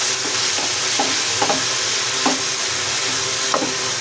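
Chicken pieces for shawarma fry in a pan over medium heat, giving a steady, loud sizzle throughout, with a few soft scraping stirs of a spoon against the pan.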